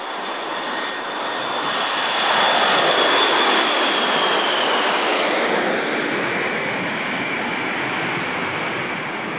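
Airplane engine roaring steadily overhead, a broad sustained rumble that swells slightly toward the middle as it passes, loud and continuous with no voices.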